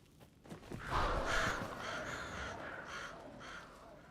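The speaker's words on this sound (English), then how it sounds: "I don't mind birds." Crows caw several times in the video game Alan Wake 2, a series of harsh, repeated calls of moderate loudness over a faint ambient background with no talk.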